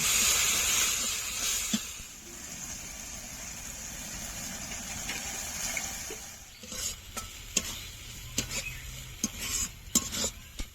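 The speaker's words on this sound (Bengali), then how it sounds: "ধনের গুঁড়ো কাশ্মীরি চিলি পাউডার এবার ভালো করে কষে নেব" Ground coriander and Kashmiri chili powder sautéed in a pan for an egg and cauliflower curry, with a steady loud sizzle at first, then a quieter hiss broken by sharp scrapes and clinks of a utensil stirring against the pot.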